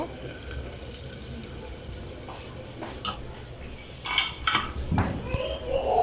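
A clay cooking pot is lifted off a stove while small fish charchari cooks, giving a few close clinks and scrapes of pottery and utensils over a low hum, with louder knocks near the end.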